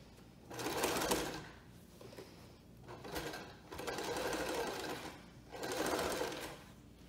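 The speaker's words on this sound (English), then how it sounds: "I'm just gonna sew all the way down." A sewing machine stitching cushion fabric runs in three bursts of rapid mechanical whirring, separated by short pauses, close and fairly quiet.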